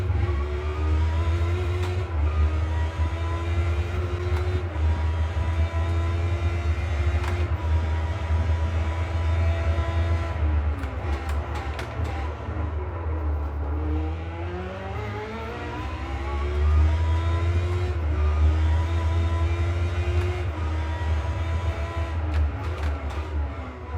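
Car engine from a driving video game played with a Logitech Driving Force H-pattern shifter, a steady loud drone that rises and falls in pitch through gear changes, revving up again midway with no talk.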